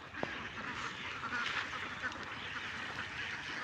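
A large flock of ducks quacks continuously in a farm field, a dense, steady chorus of overlapping calls that stays moderately loud throughout with no clear pauses.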